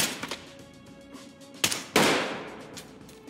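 Gunfire in the tactical shooter Ready Or Not, shots fired through a window from outside: two sharp loud cracks about a third of a second apart, followed by a decaying tail, over quieter scattered game noise.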